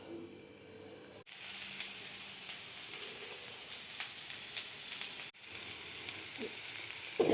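Mustard seeds and urad dal frying in a generous amount of hot oil, a loud continuous crackling sizzle that starts abruptly and runs steadily, close up, briefly cut once midway.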